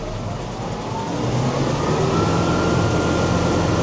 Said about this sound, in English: So rev the tractor up.